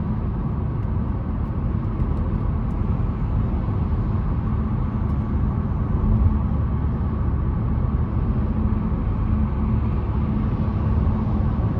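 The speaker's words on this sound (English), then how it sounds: "the road noise in this thing is pretty decent as well" Steady, even road noise fills the cabin of a 2025 Buick Encore GX Preferred with its 1.2-liter turbo engine while driving, a continuous low rumble and tire hiss that holds at a constant level with no talk over it.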